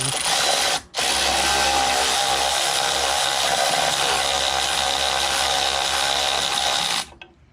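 A ratchet runs in one long, loud, continuous mechanical whir while tightening bolts on a rear expedition tire carrier for a Jeep Cherokee XJ, with a brief break near the start before it stops.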